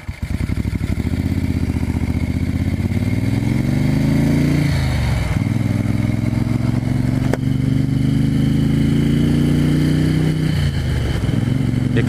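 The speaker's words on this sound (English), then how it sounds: "It's got a real rasp to the exhaust." A 1974 Moto Guzzi 750S motorcycle runs loud and close, its raspy exhaust climbing in two long revving sweeps, each dropping back briefly before rising again, with no talk over it.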